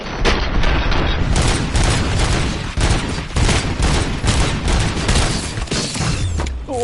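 Sustained heavy gunfire with booming impacts and mechanical clatter from the RoboCop video game, loud and continuous throughout with bursts layered over one another.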